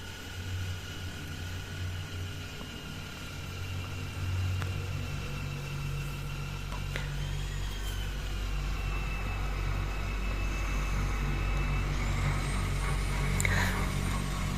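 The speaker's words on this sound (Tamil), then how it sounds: "இப்போ பார்த்திங்கன்னா கோர் கட்டிங் கண்டிப்பாக ஆகிடுச்சு ஃபுல்லாக." A core drilling machine cuts through an RCC concrete slab for a podium drain pipe connection, giving a steady loud motor drone with a grinding hum that rises slightly in pitch near the end.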